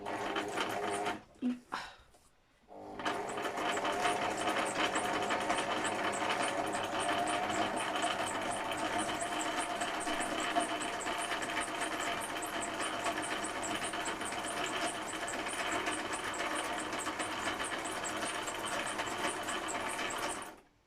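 A sewing machine stitches around a journal, starting with a few brief stops before settling into a long, steady whirring run that is close and even, then cutting off at the end.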